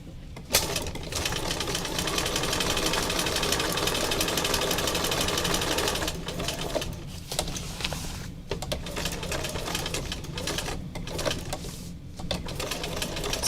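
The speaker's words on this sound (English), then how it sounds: "you kind of have to just be patient with the sewing machine" A sewing machine runs steadily in a continuous mechanical whir of rapid stitching, pausing briefly a few times before starting up again.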